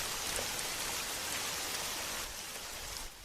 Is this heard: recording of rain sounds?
yes